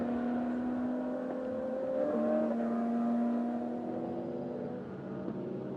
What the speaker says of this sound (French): Regardez cette superbe Lamborghini Huracan de Régis Rego de CBS